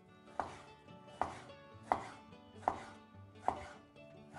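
A knife chops a tomato on a cutting board in six evenly spaced, crisp knocks, recorded close and quiet with no speech.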